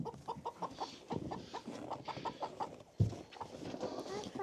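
Chickens cluck in quick, irregular bursts nearby on a farm, fairly faint, with a low murmur of voices mixed underneath.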